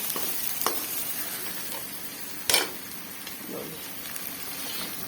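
Tomatoes frying in a pan for keema karela, with a steady, bright sizzle and crackle, a couple of sharp knocks from a spoon against the pan, no talk.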